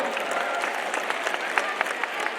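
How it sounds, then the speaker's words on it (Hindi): A crowd at the Delhi Olympic Games 2024 opening event applauds the players with steady, dense clapping that holds at an even level throughout, with scattered sharper claps standing out from the mass. "एक बार सारे मिलकर आयोजक भी हमारे खिलाड़ियों के लिए जोरदार तालियां बजा दीजिए"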